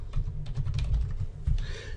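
Rapid keystrokes on a computer keyboard as a password is typed in, a steady run of soft close clicks with no voices.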